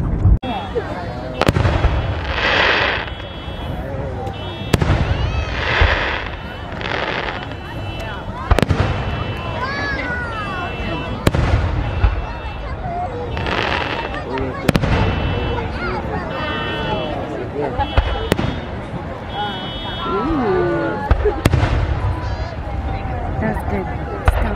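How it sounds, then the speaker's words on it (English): Fourth of July fireworks bursting loudly at repeated intervals, sharp booms every few seconds with crackling tails, while people talk throughout. "The fireworks were amazing."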